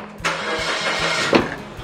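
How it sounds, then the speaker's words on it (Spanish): Car engine starting up close, with a cranking burst followed by a catch and a rough idle, alone at moderate loudness. "Voy a ver si sí, sí prende el carro"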